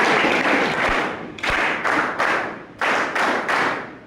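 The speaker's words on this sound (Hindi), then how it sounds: "एक बार जोरदार सर के लिए ताली बजाएंगे आप।" An audience at an Indian Kargil Vijay Diwas commemorative event applauds a speaker, with several bursts of close, crisp clapping that swell, fade briefly and start up again.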